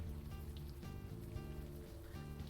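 Steady rain falling in a rainy Brooklyn street scene from the adventure game Unavowed, a soft continuous patter with light drops throughout, fairly quiet under a low musical hum.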